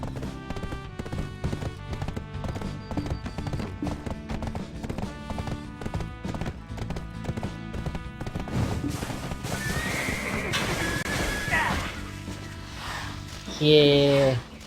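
Horse galloping with neighing while riding in the online game Black Desert Online, steady clip-clop under a dense layer of game music, with a louder burst near the end.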